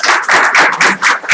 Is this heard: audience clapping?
yes